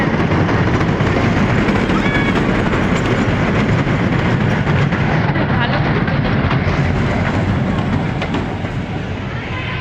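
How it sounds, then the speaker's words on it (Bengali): A train runs along its rails with a loud, continuous close-up rumble and clatter that holds steady, then eases slightly at the end. "দেখো ট্রেন চলছে"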